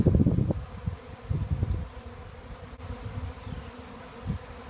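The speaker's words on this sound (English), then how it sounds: "Here are the bees. Now they're really congregating." A low, dense buzzing of a honey bee swarm fills the clip, louder at first and then settling into a steady hum with brief swells.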